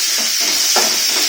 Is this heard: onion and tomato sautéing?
yes